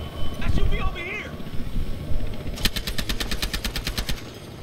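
A rapid burst of automatic gunfire, about a dozen evenly spaced sharp cracks, rings out in the second half of a Battlefield Hardline Conquest match on Dust Bowl. Brief voice-like chatter comes first, over steady background game noise.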